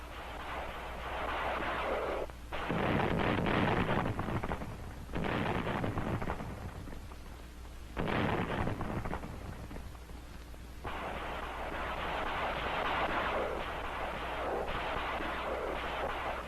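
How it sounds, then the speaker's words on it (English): Rocket and artillery fire in a WWII battle on Saipan, a continuous rumbling barrage of booms and crackling blasts that swells and fades in waves, heavy and distant-sounding throughout. "Rockets were used effectively by the 4th Division to thicken the artillery fires."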